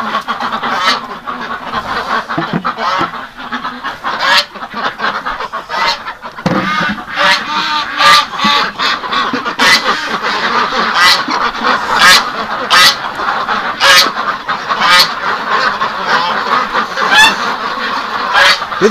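Ducks packed in a coop on a bitterly cold winter morning quack and honk over one another in a loud, close, continuous chorus with no pauses.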